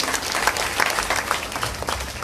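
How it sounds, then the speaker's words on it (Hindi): Audience applause at a Bhagwat Saptah religious discourse gathering in Noida, a full burst of clapping from a large crowd sustained steadily throughout. "तो उस टीम के लिए भी जोरदार ताली बजाएं"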